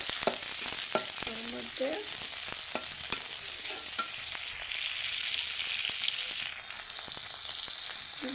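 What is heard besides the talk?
frying onions and chillies in a pan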